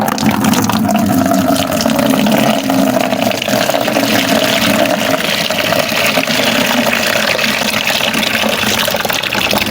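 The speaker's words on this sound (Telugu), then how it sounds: "ఈ వాటర్ అంతా కూడా ఇందులో వేసిస్తాను" Kitchen-waste water poured into a compost container gives a steady, loud rush of splashing liquid that runs unbroken for the whole stretch, with no voices.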